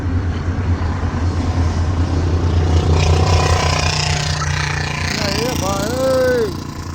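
A truck cruising on a highway between Gujarat and Maharashtra gives off a loud, steady exhaust-silencer roar with a broad engine rumble that holds almost unbroken for the whole stretch.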